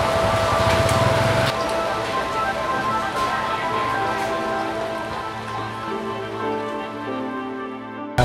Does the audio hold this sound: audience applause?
no